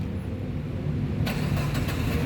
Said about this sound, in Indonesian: Nah, sekarang kita coba nyalakan mobil ya.